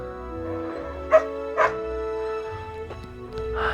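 A dog gives a few short yips and whimpering barks close by over a low hum, with quiet pauses between the sounds.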